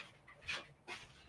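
A pet dog pants and whimpers close by in a quiet room, two short breathy bursts about half a second apart, fairly soft.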